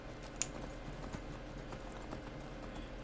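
Horse hooves clip-clop steadily at a moderate pace in the video game Skyrim, a continuous rhythmic patter of hoofbeats over soft ambient background.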